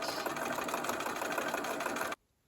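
A sewing machine stitches quilt blocks for a granny-square table topper, a steady close whirring run that stops abruptly near the end, with no talk.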